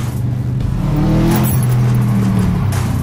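An Audi RS4 with a very loud exhaust rumbles and revs nearby, its low engine note rising and wavering while crackles and pops spit through, with no talking over it.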